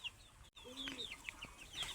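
Chickens cluck and chirp faintly on a farm, with short high calls and a low drawn-out cluck, quiet, with a brief dropout near the start and no talk.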